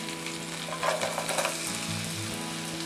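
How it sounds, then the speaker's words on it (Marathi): Onion dropped into melted butter in a pan for penne pasta sizzles loudly and steadily, with a burst of crackling and a few stirring scrapes near the middle, close and without any voices. "बटर वितळलंय आता मी कांदा घालत आहे"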